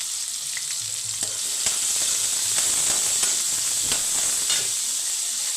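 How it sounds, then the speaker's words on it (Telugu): Chopped onions sizzle steadily in hot oil with whole spices, cinnamon, cloves, cardamom and star anise, for crab fry; a continuous close frying hiss runs throughout with occasional stirring clinks and scrapes. "ఇదిగోండి ఉల్లిపాయలు వేగిపోయాయి"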